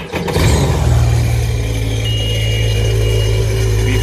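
A 2006 Sea-Doo RXT personal watercraft engine runs on its stock exhaust, a loud, steady low rumble with a constant droning hum after a brief start, close by and alone.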